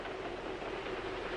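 A passenger train of the 1950s running on its rails, heard from inside a compartment as a steady, even rumble with no voices.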